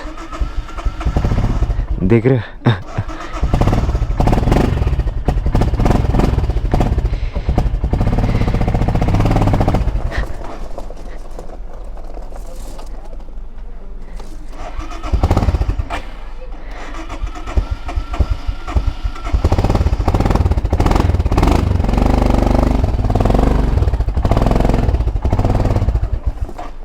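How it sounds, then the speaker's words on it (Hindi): A motorcycle struggling to start at 12 degrees ambient on a high-altitude ride toward Leh, loud sputtering engine bursts and cranking that rise, stall and return, with a voice speaking briefly over the noise. "still see the struggling of the bike when it starts"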